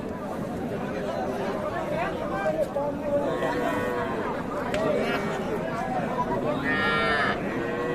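Cattle low and moo repeatedly at a village livestock market in Bangladesh, with several calls rising over a steady bed of crowd chatter and nearby voices talking.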